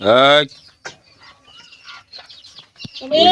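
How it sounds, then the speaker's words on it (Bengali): Chickens cluck close by while eating at an afternoon feeding, opening with a loud drawn-out squawk followed by scattered short clucks and faint rustling. "এই দেখেন আমাদের মুরগিগুলোকে বিকালবেলা খাবার দেওয়া হয়েছে"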